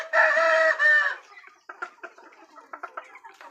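A rooster lets out a loud, close crow, then several chickens cluck softly in short bursts.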